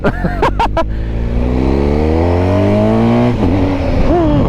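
A BMW R 1250 GS motorcycle engine pulls hard under acceleration, its loud, close rising drone climbing steadily in pitch through the gears, with a few short bursts of noise at the start.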